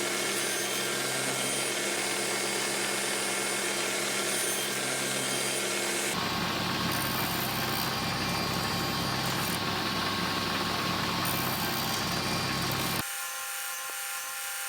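Table saw with a sled cutting a tenon in reclaimed hardwood, a loud continuous whine and rasp that shifts in pitch as the cut proceeds, then drops to the steady hum of the freewheeling blade.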